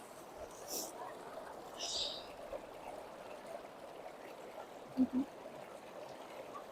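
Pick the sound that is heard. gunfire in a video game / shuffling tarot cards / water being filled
water being filled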